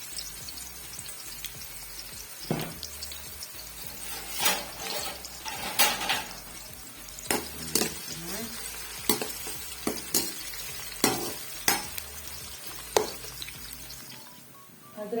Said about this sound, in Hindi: एक छोटे साइज दरमियाने साइज का प्याज लिया था, हम इसको डालेंगे।